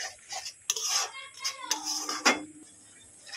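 Potol korma masala with tomato being stirred and cooked down in a pan, with a few sharp metal spatula scrapes and clinks against the pan over a quiet background.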